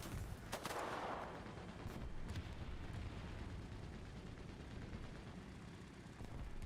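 Bombs going off in War Thunder during a live match, a burst of heavy detonations with sharp cracks near the start giving way to a long, continuous rumbling roar, faint and distant overall.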